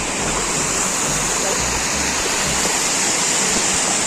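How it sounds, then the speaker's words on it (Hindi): The Mahapoli waterfall roars with a steady, dense rush of falling water, loud and unbroken throughout, with no voices heard over it. "यहाँ पे झरने पे आए हम"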